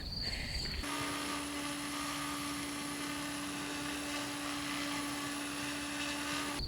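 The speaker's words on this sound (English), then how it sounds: "it's got that sort of peaceful, like humming almost, like buzzing of bees," An OMPHobby M4 RC helicopter hums in flight, a steady, smooth buzzing drone with a constant pitch, like bees, carrying on evenly and nearby after a brief noisy start, with no talk.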